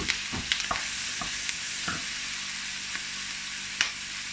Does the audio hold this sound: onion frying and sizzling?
yes